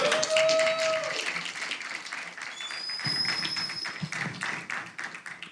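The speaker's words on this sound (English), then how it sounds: "Comics, you better give him a huge round of applause." An audience at a live comedy show claps and applauds, a dense, steady wash of many hands that stays fairly loud throughout, with a few scattered voices and cheers mixed in.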